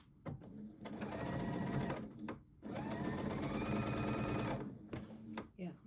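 A sewing machine back stitching fabric for a New Look 6575 garment runs in two close, steady bursts of rapid mechanical clatter, separated by a short stop, with brief quieter pauses at the start and end.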